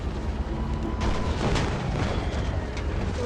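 Tank cannon fire in the Indian Bikes Driving 3D game booms repeatedly, loud and rumbling, with a sharper impact burst in the middle over a constant heavy low roar.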